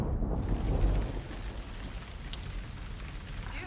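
Steady rain falls during a storm on a small Missouri homestead, a dense close hiss of drops on surfaces that stays even throughout, slightly heavier at the start, with no talking.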